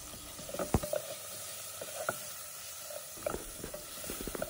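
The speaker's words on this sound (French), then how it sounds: "On va faire revenir notre viande bien marinée." Well-marinated meat sizzles and crackles steadily in hot oil in a pot for a Senegalese mafé, with irregular pops and a few louder spits over a constant frying hiss; no voices.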